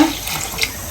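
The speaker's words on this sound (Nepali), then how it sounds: "यहाँ थोरै पानी हालेर" A steady stream of water pours and splashes into a pot of potatoes for boiling, close and fairly loud.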